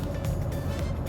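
Honda CR-V hybrid cabin noise while driving, a steady low road and drivetrain rumble with a mild hum, continuous and moderately loud, with no talking.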